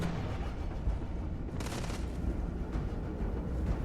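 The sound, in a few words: gunfire in the video game Starfield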